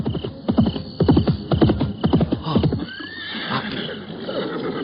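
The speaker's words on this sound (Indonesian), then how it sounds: "Ada pasukan berkuda datang kemari." Several horses whinny and neigh loudly, close up, in a radio drama scene of approaching cavalry, followed by a quieter stretch of hooves and rustling.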